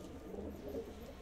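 Patiala pigeons in a breeding setup coo softly, a low, faint, murmuring coo rolling through the short moment with steady background noise.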